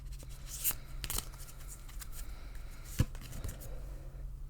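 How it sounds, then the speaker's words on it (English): Lenormand cards being shuffled by hand, a soft papery riffle and rustle with a few brief sharper slaps, close and quiet over a steady low hum, no talking. "I shuffle until Spirit asks me to stop."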